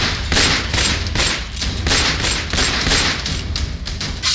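Repeated gunfire from a shooting at a car in Bahadurgarh, Jhajjar, Haryana, heard as a fast series of sharp, loud shots in uneven bursts across the whole stretch.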